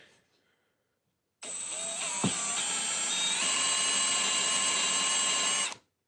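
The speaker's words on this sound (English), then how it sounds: "I drill the pilot hole and I send it." A power drill whines steadily for about four seconds, boring a pilot hole into a wooden cutting board, then stops abruptly; near and loud with a brief clunk near the start.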